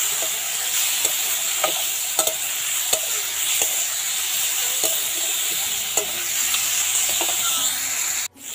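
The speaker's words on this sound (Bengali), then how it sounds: "নুন হলুদ লঙ্কার গুঁড়ো এবং সব কিছু দিয়ে এখন ভালোভাবে নাড়িয়ে নিচ্ছি" Sliced ridge gourd frying in a pan with salt, turmeric and chili powder, stirred with a spatula: sharp scraping ticks at uneven intervals over a continuous close sizzle.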